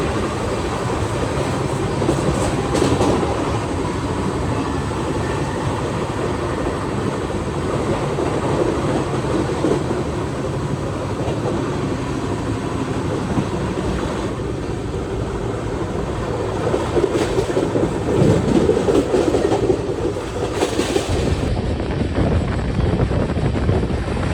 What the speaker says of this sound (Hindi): भाई उमरगाम पे पहला ओवरटेक पड़ता हुआ हमारी ट्रेन का।